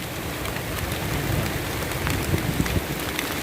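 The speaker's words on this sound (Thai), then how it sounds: "โอ้ ฝนตกแรงครับ" Steady, dense storm rain pours down on a jujube orchard with a constant broadband hiss, scattered louder drops pattering throughout; no voices.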